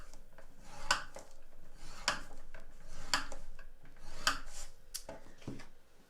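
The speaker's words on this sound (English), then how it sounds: "I am scoring every ½ an inch. And I'm going to turn it around and I'm going to score every ½ an inch going this way." A tool scores vanilla cardstock in a grid of lines half an inch apart for a faux tile craft, making a series of short, dry scraping strokes in a quiet, irregular rhythm, close by.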